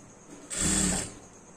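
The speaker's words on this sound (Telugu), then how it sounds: "ఇలా ఫ్రంట్ ఇలా స్టిచ్ చేసుకోవాలి." A sewing machine stitches the front of a long frock in one short, steady motorised run of about half a second, loud and close over a quiet room.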